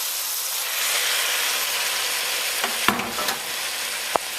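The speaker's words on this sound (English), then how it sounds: "Listen to that lovely sizzle." Roasted tomatoes and onions with their baking juices sizzle loudly in a hot pot, a steady close hiss with a few stirring clinks near the end.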